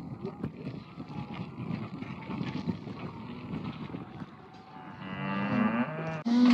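Cattle moo in a windy outdoor pen during a veterinary pregnancy check, with a low, drawn-out call rising clearly near the end over constant wind noise and background murmuring.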